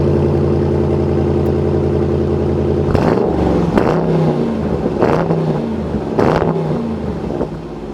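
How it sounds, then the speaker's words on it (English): A 2024 Dodge Durango R/T Tow n' Go V8 idles with a steady burble, then its exhaust barks through four sharp revving bursts while driving off, loud and near. "this exhaust sounds great"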